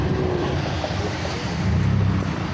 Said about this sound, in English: Listen, all that natural aspirated power, okay, all that torque in this truck.